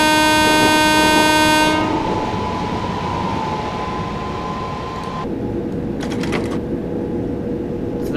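A train passing in Train Simulator 2020 on the London Euston to Watford Junction line, opening with a loud sustained horn blast, then a continuous rumbling roll of wagons with a brief higher rattle near the end.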